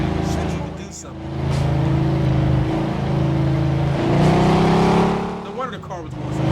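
Car engine in the video game Mafia 2, a steady droning hum that swells as the car speeds up and shifts, with someone talking over it.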